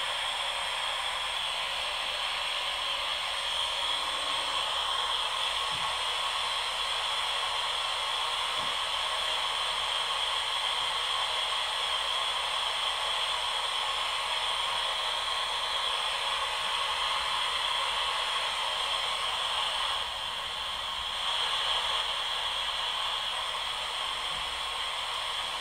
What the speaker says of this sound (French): Allons-y donc pour le bruit blanc.